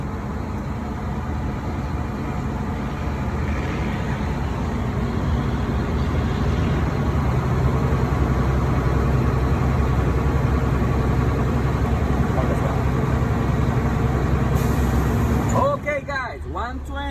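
Diesel engine of a Class A truck idling steadily to build air brake pressure during a pre-trip inspection, a continuous loud low rumble that runs throughout, with a brief clatter and shift near the end.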